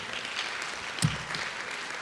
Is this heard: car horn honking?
no